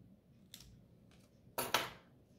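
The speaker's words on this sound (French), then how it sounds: "Et là, je vais couper." Scissors cut through material during a craft project making a small teddy bear: a faint snip, then two sharper, louder cuts close together in a quiet room.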